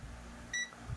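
A single short multimeter continuity buzzer beep, steady and fairly clear, lasting a fraction of a second amid a quiet low hum, while troubleshooting an SMD drive.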